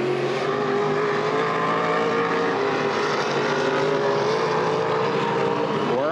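Open-wheel modified race cars roar around Baer Field Speedway during the 2011 Gold Cup 60, a loud, steady, dense engine drone with overlapping cars and a rising pitch sweep near the end.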